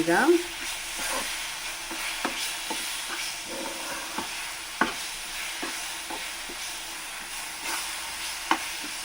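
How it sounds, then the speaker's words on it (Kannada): Mango laddu mixture is stirred in a pan over a low flame: a gentle constant sizzle with repeated scraping strokes of a spoon against the pan, some sharper than others, and no talking. "ಈಗ ಚೆನ್ನಾಗಿ ಮಿಕ್ಸ್ ಮಾಡಬೇಕು. ಸಣ್ಣ ಉರಿ ಇಟ್ಕೊಂಬಿಡಿ."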